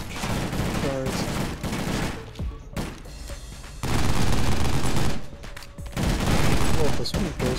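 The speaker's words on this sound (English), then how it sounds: "I'm shooting from a distance" Gunfire from the XM Hawk in the shooter Armed Heist, sustained loud bursts of rapid shots broken by short pauses, with a voice talking over the shooting.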